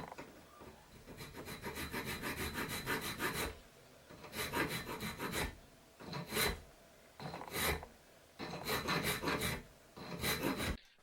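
Hand filing or rasping cuts a recess into a router roller guide mounting plate, with rough scraping strokes in bursts, first a long run, then shorter separate passes, close and alone.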